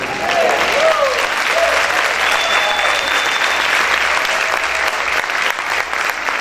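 A church congregation bursts into loud, sustained applause, a dense roar of clapping with scattered cheers and voices rising above it throughout.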